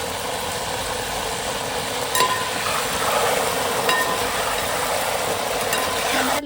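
Salt water poured over banana chips frying in hot oil brings a steady, loud, dense sizzle and bubbling that swells slightly midway and continues without pause.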